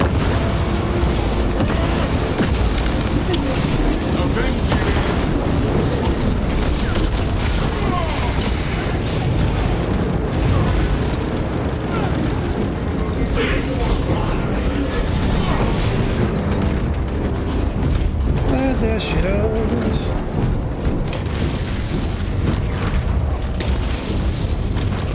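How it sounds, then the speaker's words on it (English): Shock grenade blasts in the Warhammer 40K Space Marine 2 battlefield, booming bursts buried in a constant dense roar of combat noise that runs throughout. "Shock grenade."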